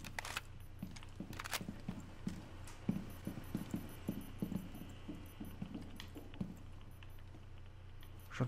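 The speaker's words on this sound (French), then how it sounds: "J'entends des bruits de pas." Footsteps in Rainbow Six Siege come as soft, fairly quick, evenly spaced taps over a low background hum, faint and without any talking.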